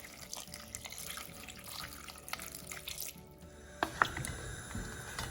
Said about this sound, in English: Thing to add before we start cooking is just some water